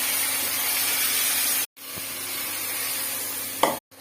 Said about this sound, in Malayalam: ഇനി നമ്മൾ ബീഫിന്റെ ഇച്ചിരി ചാറ് അങ്ങോട്ട് ഒഴിച്ചു കൊടുക്കുവാണ്.